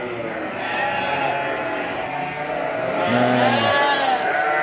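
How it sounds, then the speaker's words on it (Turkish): A flock of sheep and lambs bleat together, a dense overlapping chorus of high and low calls, with a person's brief voice up close. "Bakın şu melemeye bakın."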